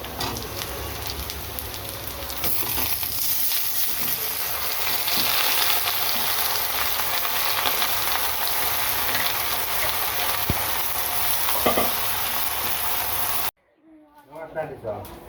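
A pan of frying sizzles loudly and steadily after a filling goes in over fried onions, with a voice briefly audible; the hiss cuts off sharply near the end, giving way to a quieter, different sound.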